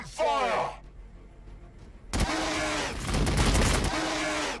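Game gunfire from Warhammer 40K: Battlesector, a loud, sustained burst of rapid weapon fire with heavy impacts that follows a short spoken voice line, continuing to the end.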